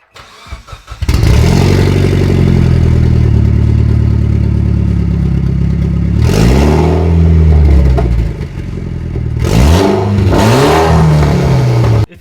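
Mitsubishi Evo X with an open downpipe cranks and fires, then blares loudly at idle, with two sharp revs that swell and fall back; raw, raspy and very close.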